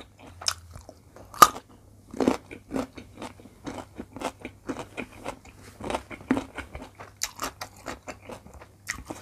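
Close, crisp crunching bites and wet chewing of a spicy octopus salad come in a steady run of repeated mouthfuls, with soft scraping between them.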